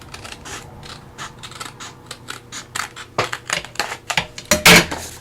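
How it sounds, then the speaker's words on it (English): Scissors snip along the edge of a paper envelope for a crafted stacked-envelope journal pocket, a run of close, crisp cuts and paper rustles that grow louder and sharper toward the end. "So I'm going to go ahead and cut this edge open."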